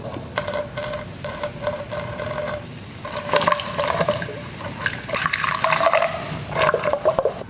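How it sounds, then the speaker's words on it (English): A baking soda and distilled water solution is poured slowly into the cells of a battery being reconditioned, making a steady, close trickle and gurgle of liquid filling small openings for several seconds. "next we're going to start pouring it in and filling each cell."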